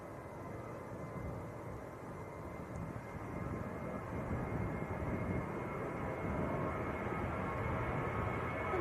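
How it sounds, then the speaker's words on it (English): A Ryanair airliner bound for Dublin at Manchester Airport produces a faint, distant jet rumble that swells slightly partway through and carries on steadily, with no talk over it. "And this is Ryanair to Dublin."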